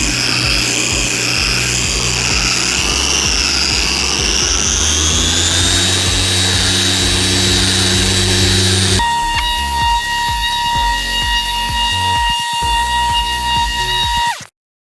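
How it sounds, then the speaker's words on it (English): A car polisher machine runs steadily against paintwork, a loud continuous whine whose pitch rises slowly, then shifts to a higher tonal hum before cutting off abruptly at the end. "you need to put a little bit of pressure on the polisher and you need to go very slow with the machine"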